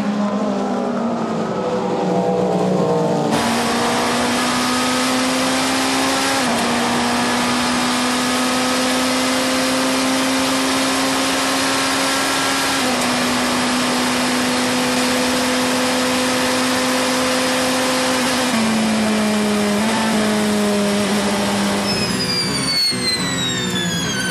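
Race cars at the 24 Hours of Le Mans, including a Cadillac and Ferraris, roar past loudly and continuously, their high engine whine holding steady pitch before shifting as another car passes near.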